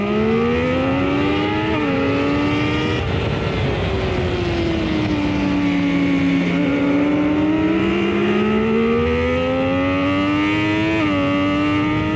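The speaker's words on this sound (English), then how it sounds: "Check out that launch by Jason Farrell." A race car launches from the start of a 2020 race, its engine howling loudly and continuously as the pitch climbs and drops back with each gear change.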